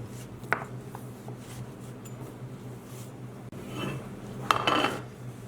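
A knife cuts through a slab of caramel fudge on a board, giving a few soft scrapes and light clinks, with one brief louder scraping pass near the end, close and quiet without talk.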